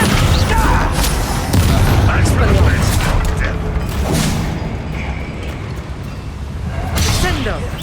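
The Descendo spell cast in Hogwarts Legacy lands as a loud, booming slam with whooshing impacts, continuing in rumbling bursts that fade and return, while a voice speaks over it.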